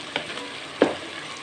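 Potatoes and spices frying in ghee, a close steady sizzle broken by two short knocks of a stirring spoon against the pan; no talking.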